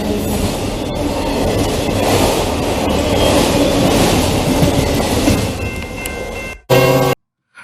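A freight train rumbles past close by, steady rhythmic clatter of wheels over rail joints with a few metallic squeals, then cuts off abruptly near the end.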